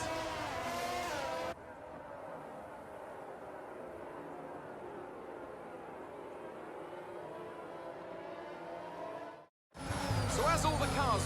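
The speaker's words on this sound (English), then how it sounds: "the formation lap is underway" Race cars on a formation lap in the F1 22 video game, a steady engine drone that runs for several seconds, fades out briefly near the end, then returns louder.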